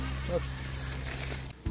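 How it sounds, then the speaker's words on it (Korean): A steady buzz from a yellow-legged Asian hornet (Vespa velutina) hums through the whole clip, close and continuous, with a brief dip near the end. "겁이 나긴 한데 등검은 말벌입니다"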